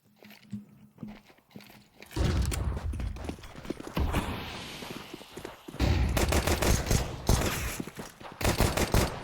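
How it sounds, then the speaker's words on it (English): Glock and P250 pistol shots in a professional Counter-Strike match: sharp, close shots tapped out in quick sequence after a quieter stretch of footsteps and ambient game noise, with dense bursts of firing and impacts. "Marios tapping away with the Glock, P250 Glock combo"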